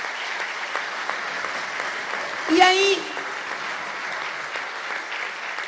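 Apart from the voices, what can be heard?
audience applauding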